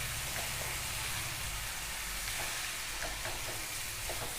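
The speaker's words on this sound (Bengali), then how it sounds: "আলুটাকে ভালো করে নেড়ে দিই।" Potatoes with turmeric stirred in a frying pan for a Bengali banana-flower dish, a steady close sizzle with soft scraping strokes throughout, no talk.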